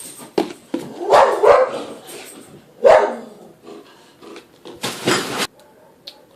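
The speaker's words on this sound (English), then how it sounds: "all you hear was bark, bark, bark from all the dogs" Several dogs bark at a mailman inside a house, with loud, close, uneven bursts of barking and yipping separated by short pauses.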